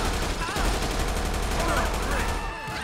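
Rapid bursts of gunfire during a clothing store hold-up in GTA 5 with the LSPDFR police mod, several close, loud shots crackling in quick succession over a noisy background.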